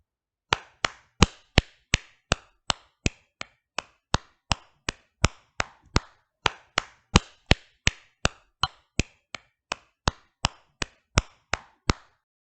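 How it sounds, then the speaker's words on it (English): About thirty sharp hand claps in a steady, evenly spaced rhythm, loud and close, repeated alone with no voices, during a role-play Bigfoot hunt in Brookhaven. "why don't you try some claps?"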